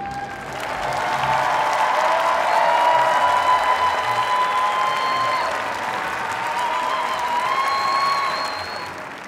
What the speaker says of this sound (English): Could we have a really large round of applause, please?